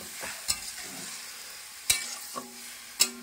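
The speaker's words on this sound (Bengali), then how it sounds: "সুন্দর করে নাড়িয়ে নেব।" Khichuri with rice, oil and a little water is stirred in a pot over a soft background sizzle, with three or four sharp spoon clinks against the metal rim at irregular intervals.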